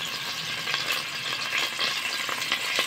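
Garlic frying in a hot pan, a steady bright sizzle with crackling pops throughout, close and alone with no talk.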